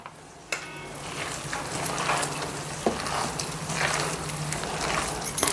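Chicken, homemade masala, ginger paste and three beaten eggs being mixed together for a matka biryani, a continuous wet squelching and stirring rustle close by, with a few soft knocks, no voices.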